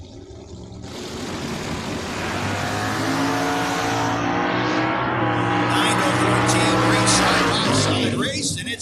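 A Ford-powered drag race car roars down the drag strip at a door car event, its engine a loud, sustained, rising blast that fills nearly nine seconds, with a track announcer talking over it.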